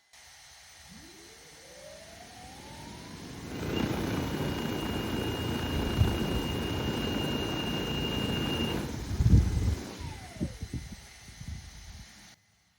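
An EAVision J150 agricultural drone's rotors spool up from idle to a loud, steady buzzing roar that holds for several seconds, then wind back down and stop, heard close by outdoors.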